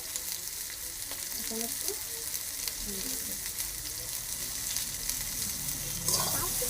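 Cabbage filling with peas frying and being stirred in a pan, a steady bright sizzle with scraping stirs, close and fairly quiet, with brief speech over it.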